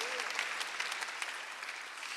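A church congregation claps during a Sunday worship service, a steady patter of many hands at moderate distance, fairly quiet and continuous.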